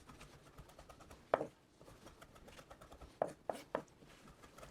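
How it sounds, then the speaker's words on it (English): Fresh cilantro leaves diced with a knife on a board for pico de gallo: one soft chop, then a quick cluster of three light cuts, quiet and close. "I'm going to go ahead and give these a little bit of a dice up."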